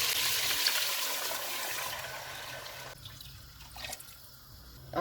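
About one and a half litres of water pours into a cooking pot of browned mutton, a rushing, splashing stream for a few seconds before it thins to drips and quiet.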